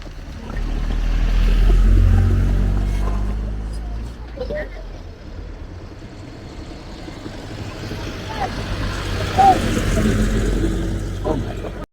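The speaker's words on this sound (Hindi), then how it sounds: "फिर गाड़ी तो आया है" A car approaching along a rural road in India, a low rumbling engine swelling in and fading, with voices talking over it.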